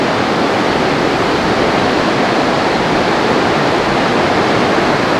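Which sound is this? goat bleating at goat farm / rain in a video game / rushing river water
rushing river water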